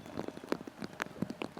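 Rain falling during a disc golf tournament round, a patter of distinct drops tapping irregularly on nearby surfaces, fairly close and moderately quiet, with no talk over it.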